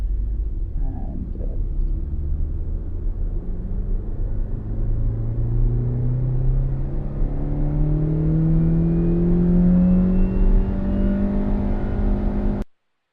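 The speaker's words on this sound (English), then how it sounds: "a vehicle revving through the RPM range all the way from idle to max RPM" A vehicle's engine climbs steadily from idle to maximum RPM, heard from inside the cabin with road, wind and powertrain noise. A loud rising harmonic whine sweeps upward for about twelve seconds and then cuts off abruptly, with no talking.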